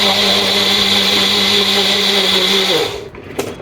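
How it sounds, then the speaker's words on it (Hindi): A mixer grinder loudly blends mango milkshake with vanilla ice cream in a steady whirring drone for about three seconds, then winds down and stops with a clatter. "अब हम इसे मिक्सी से ब्लेंड कर लेते हैं।"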